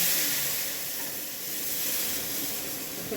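Tempering for Gujarati white kadhi: red chillies, cloves, bay leaves and curry leaves sizzling in hot oil, a steady, bright, close hiss that holds evenly throughout with no talk.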